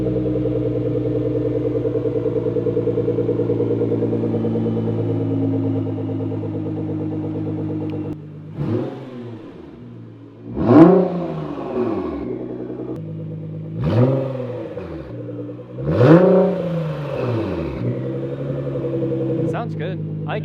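A Nissan GT-R fitted with a 4.5-inch titanium exhaust idles with a steady rumble, then it is blipped in four sharp revving bursts that rise and fall, loud and close.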